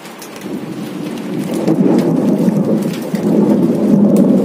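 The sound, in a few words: heavy rain with hail and thunder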